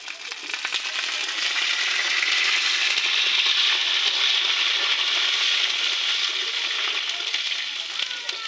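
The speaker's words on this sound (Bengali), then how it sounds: "পেঁয়াজটা ভাজা ভাজা হয়ে এসছে" Onions sizzle as they fry in oil in a pan while vegetable khichuri is being prepared, a steady, bright crackling hiss that runs continuously and close up.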